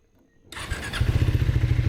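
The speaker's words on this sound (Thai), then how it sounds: "นี่สตาร์ทก็เปิดกุญแจก่อนเอาสวิตช์ลง แล้วก็สตาร์ทปุ่มข้างล่างครับ" A Triumph Speed 400 motorcycle engine cranks and catches, then settles into a loud, steady, rhythmic idle thumping close by.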